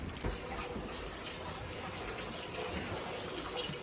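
Tap water running steadily at home to flush the drinking water pipes, a constant hissing gush that stays moderately loud and even throughout.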